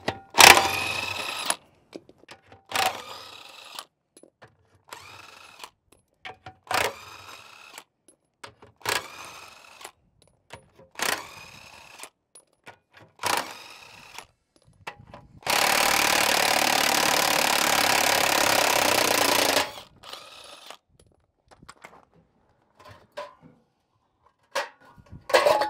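A power tool with a 1/2 to 3/4 inch socket adapter runs nuts off a scrap-built truck in short repeated bursts, with one long sustained run in the middle and clinks and handling noises between bursts.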